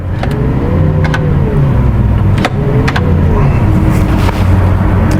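A Lamborghini Aventador SVJ V12 roars loudly and close during a launch-control start, revving hard with rising pitch sweeps and brief gear-change dips in between.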